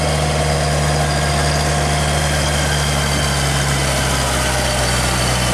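A Kubota M704K tractor fitted with tall lugged tires idles steadily close by, its diesel engine holding a low, even hum and a constant rumble with no change in revs.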